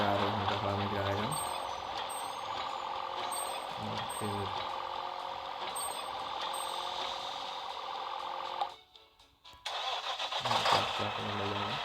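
A dump truck in a cartoon builder video game starts up and rumbles with a steady mid-pitched engine drone, joined by high repeating reversing beeps; someone talks over it, and the sound briefly cuts out before resuming.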